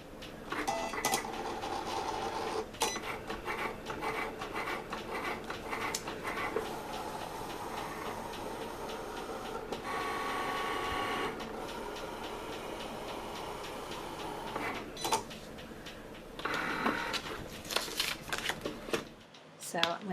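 A Cricut Explore machine cuts and writes on a mat, a steady mechanical whir with shuffling, clicking passes, while a fan clacks in the background and a person talks over it.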